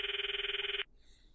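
A phone ringing in the visual novel game Steins;Gate, one steady electronic ring lasting just under a second and then cutting off into near silence, quiet and alone.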